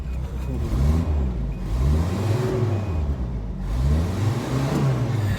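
A 1983 Toyota pickup engine runs close by, its loud mechanical drone rising and falling through repeated revs with a rough steady idle between them.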